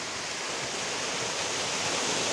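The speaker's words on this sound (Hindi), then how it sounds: "यहाँ पर देखिए काफ़ी तेज बहाव से पानी आ रहा है।" Steady, loud rush of a mountain waterfall pouring into a stone pool, a continuous broadband roar up close with no breaks.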